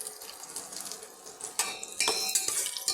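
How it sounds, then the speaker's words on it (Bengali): Chopped ginger stirred and fried in a pan for pulao, with cashews already fried, giving scraping metal utensil clatter and sizzle that grows louder in the second half. "এই আদা কুচিটা আমি একটু নাড়াচাড়া করে ভেজে নিচ্ছি"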